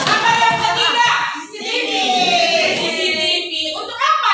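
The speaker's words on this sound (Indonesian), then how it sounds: "Tepuk tangan dulu" A group of children in a classroom clapping together in a steady, loud burst of applause, with young voices mixed in, lasting several seconds.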